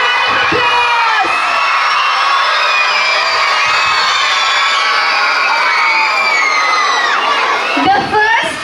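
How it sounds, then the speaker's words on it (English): A crowd of children cheers, whoops and shouts continuously at a school Children's Day event, a loud, dense, sustained roar with a swell near the end. "Can we hear it for them? A big round of applause."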